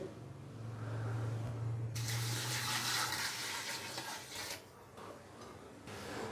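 Water splashes and gushes steadily into a pressure cooker, about 1.5 litres for mutton pulao, a bright pouring rush that pauses briefly and resumes, close by.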